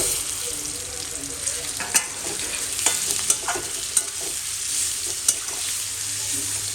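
Chicken pieces stir-fried with onions in a pan, a continuous close sizzle punctuated by sharp spatula knocks and scrapes every second or so, with no talking.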